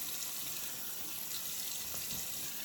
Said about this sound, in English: Let's rinse our face one more time.